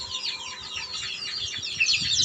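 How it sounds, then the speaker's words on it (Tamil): Peruvidai chicken chicks peep continuously in a dense chorus of high, rapid chirps close by, over a low background hum, with no talk. "நம்ம பார்த்துக்கிட்டு இருக்கிறது பெருவிட கோழி குஞ்சு"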